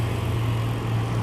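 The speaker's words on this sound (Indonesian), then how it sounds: "Ini dump truk" An orange Fuso dump truck, heavily loaded with its cargo piled high, holds a steady low engine drone on a hill road, continuous and fairly loud with no voices.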